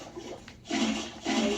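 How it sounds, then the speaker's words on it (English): Two quick splashy water-bucket sounds from Minecraft, Xbox Edition, each a short bright whoosh of pouring water, close and alone with no talk. "Let me just grab a quick water bucket."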